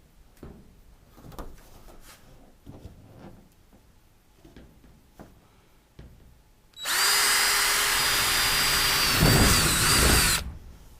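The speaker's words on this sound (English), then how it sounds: "We'll get them marked and drilled out." A power drill bores bolt holes through Jeep TJ body panels, one loud sustained whine of about four seconds coming after a stretch of quieter handling knocks and clatter.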